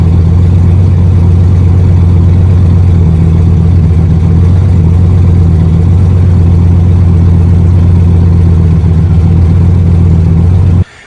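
A drag-racing car's engine idles steadily after a new oxygen sensor was fitted, giving a loud, even low rumble that holds throughout and cuts off abruptly at the end. No one speaks.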